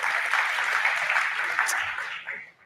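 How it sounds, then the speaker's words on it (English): A short burst of audience applause at a climate summit panel at COP28, a dense, fairly close clapping wash that fades out at the end. "So maybe a round of applause for that."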